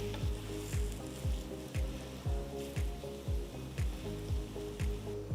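A kids' snack fries in oil in a pan on a medium flame, with a steady sizzle broken by regular soft scraping or stirring strokes about twice a second, close and fairly quiet.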